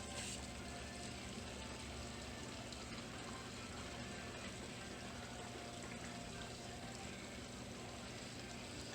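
Coolant vacuum filler drawing water into the cooling system of a high-performance C6 Corvette after a piston replacement: a steady, close, unbroken rushing and hissing of water and air that holds level throughout, with no talking.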